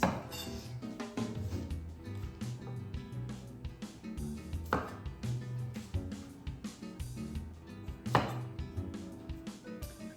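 A knife chops the ends off cherry bell radishes on a cutting board, with a steady run of crisp, close cuts and a couple of louder thumps.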